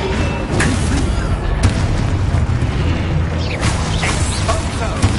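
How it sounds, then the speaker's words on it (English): The Confringo spell in a Harry Potter video game sets off a loud, sustained fiery explosion, a dense booming roar with crackling bursts running throughout. "Confringo!"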